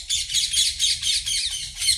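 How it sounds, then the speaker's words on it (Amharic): Birds squawk and chirp in dense, overlapping calls that pulse continuously and loudly, with a low rumble of rain or background noise underneath during a rain shower. "ወፎችን ድምጻቸው እንዴት ደስ እንደሚል"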